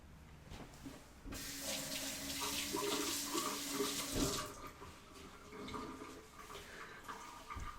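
Kitchen sink tap running in a home kitchen while baking brownies, a steady hissing rush of water that starts abruptly, flows for about three seconds, then eases to quieter splashing.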